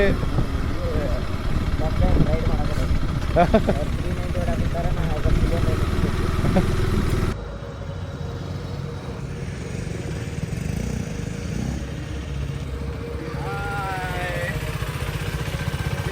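Motorcycle engine idling close by at an auto expo, a steady low throb that runs throughout and drops in level partway, with someone talking over it.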